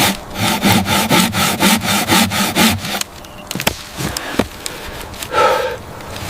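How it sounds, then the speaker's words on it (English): Handsaw cutting through a fallen tree trunk in a forest: a steady run of loud, rhythmic rasping strokes, then scattered woody knocks and rustles as the sawing stops. "Piece by piece, the wood is gathered before the real labor of sawing the fallen giant begins."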